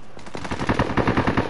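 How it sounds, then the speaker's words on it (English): An automatic 9mm pistol fired as a sidearm in Call of Duty: Modern Warfare, a loud close burst of rapid, evenly spaced shots lasting about a second. "I'm using it as a automatic pistol. Alright. Little 9mm."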